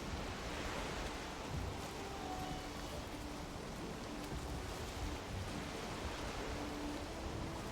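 Steady broadband wash of ocean surf ambience in a video game, a constant rushing roar with no distinct breaks, heard alone at a moderate level.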